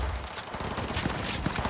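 Enemy gunfire in Cyberpunk 2077, a quick flurry of close, loud shots crackling over a short combat moment.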